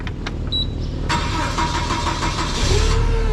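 A truck engine cranks and catches on an Iowa farm at planting time. The start rises over steady loud background noise, and a faint whine comes in near the end.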